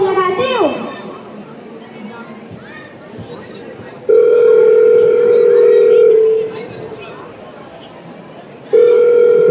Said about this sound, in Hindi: मैं अभी अपने बेटे को फोन लगाती हूँ।